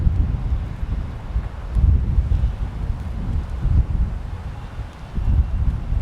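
Strong gusty wind buffeting an outdoor football stadium under construction, a low rumbling roar that surges and eases in waves with no voices.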